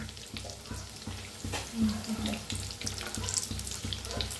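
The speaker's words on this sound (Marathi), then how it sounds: "मस्त तळायला लागलेत बघा।" Bread balls deep frying in hot oil, a steady close bubbling sizzle with some watery rushing, continuous throughout with faint kitchen clatter.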